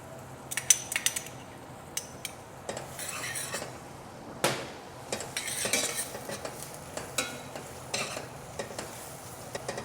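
Onion and garlic sautéing in butter in a pan while making a Brazilian bar-food dish with dried beef, heard as quiet stirring with repeated scrapes and clinks of a utensil against the pan over a soft, faint sizzle.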